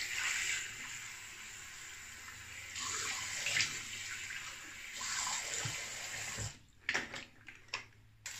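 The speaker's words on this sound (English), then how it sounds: "Cold water splash." Cold water splashing onto a face during a wet shave, with several bursts of watery splashing and running water close by, separated by brief quieter gaps and a few drips near the end.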